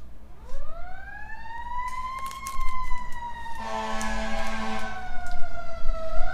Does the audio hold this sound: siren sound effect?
yes